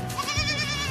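A baby goat gives one short, wavering bleat up close during bottle-feeding, loud and clear with no talk over it.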